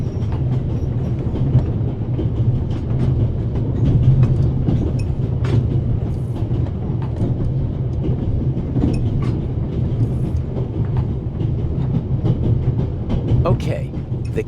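Ambience of a moving train in the adventure game The Raven Remastered: a continuous low rumble with rhythmic clickety-clack of wheels and occasional rattles, steady throughout, with a voice speaking over it at times.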